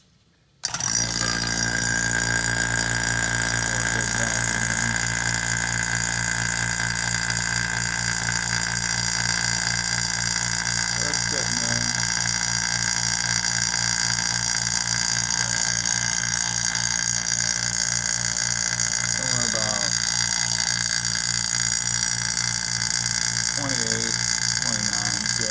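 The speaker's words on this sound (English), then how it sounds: "over here we have our little vacuum pump" A small vacuum pump hums and whines steadily throughout while concentrating hydrogen peroxide, with faint gurgles and occasional clicks; voices are audible beneath the machinery.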